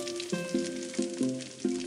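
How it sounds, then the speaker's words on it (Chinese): Steamed buns coated in beaten, salted egg deep-fry in hot oil, giving a close, continuous sizzle and crackle with several quick clinks or bumps recurring through the short stretch. "然后进入油锅开始油炸。"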